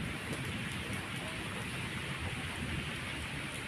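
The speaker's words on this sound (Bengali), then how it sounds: "দেখো প্রচুর বৃষ্টি পড়ছে" Heavy rain pours down in a dense, unbroken hiss of drops striking surfaces, even and steady from start to finish with no voices over it.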